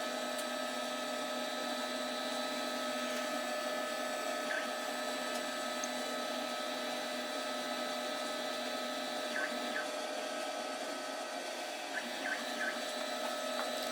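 A Procolored dual-head DTF printer initializing, giving off a constant faint mechanical whine and hum with steady tonal layers and a few tiny clicks, heard alone at low level.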